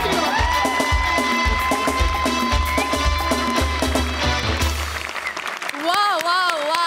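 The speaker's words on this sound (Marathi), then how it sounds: "जोरदार टाळ्या" Loud applause from the studio audience of a Marathi stage comedy show swells steadily, mixed with bright music and a brief fanfare near the end.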